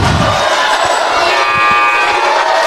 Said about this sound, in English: The crowd and the student section are letting them have it